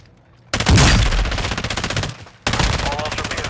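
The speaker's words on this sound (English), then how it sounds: "You are taking effective fire." Rapid automatic gunfire in a Call of Duty game: two loud, close bursts of machine-gun fire, the first about two seconds long, then a brief gap before the second starts.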